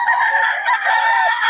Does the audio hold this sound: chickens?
yes